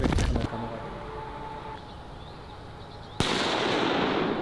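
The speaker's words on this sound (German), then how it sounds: "Wir tun den Böller hier hin." Firecracker exploding outdoors: a sharp close crack cuts through background noise, followed by a brighter sustained hiss and crackle after the bang, with a few earlier rapid pops at the start.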